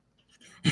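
A dog pants softly and briefly at close range, a few quick breaths ending in a louder huff.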